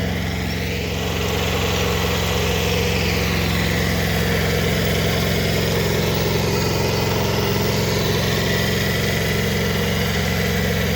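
A small mini tractor engine running at a steady idle, a continuous close-up rumble with constant vibration and no breaks.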